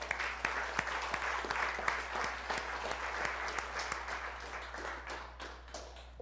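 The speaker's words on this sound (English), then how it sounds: "Give yourselves a round of applause." A church congregation at a Sunday service claps in a fairly quiet, moderately distant round of applause, individual claps standing out over a steady low hum before fading toward the end.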